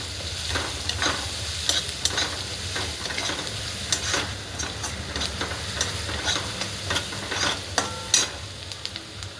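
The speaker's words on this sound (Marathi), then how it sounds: "कांदा आपला भाजतोय आता आपला कांदा पूर्ण तळत आलेला आहे" Onion frying in a pan with curry leaves while cooking pasta, a steady soft sizzle broken by repeated scraping stirs, close and moderately quiet, with no talk.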